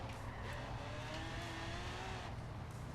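A Cadillac CTS-V on race tires with no rear downforce spins its wheels and breaks loose. A steady engine roar runs under thin rising tire squeals, loud and continuous.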